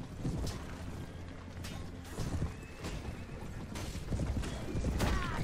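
Horses gallop through a medieval battle in Mount & Blade: Warband, with rapid hoofbeats, snorts and a whinny. Creaks and the clatter of combat sit around them, and a voice speaks faintly in the background.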